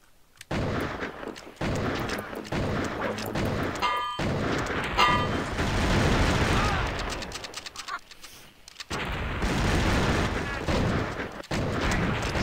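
Gunfire in a multiplayer deathmatch of the LucasArts shooter Outlaws: dense, continuous bursts of shots and booms across the whole stretch, with brief pauses and people talking over the game.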